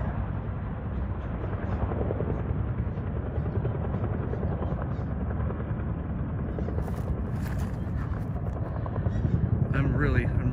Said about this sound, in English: there's a lot of choppers coming in here.